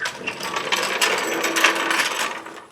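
Steel studs being backed out of a Subaru engine block with a ratchet, giving a steady, close mechanical clicking and grinding that runs without a break the whole time, with no talk over it.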